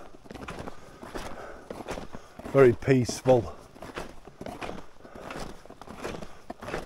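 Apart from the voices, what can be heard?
footsteps walking through the woods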